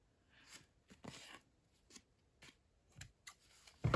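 Scissors trim fabric in a series of short, crisp snips and slides, spaced irregularly with quiet pauses between, ending in a louder close rustle.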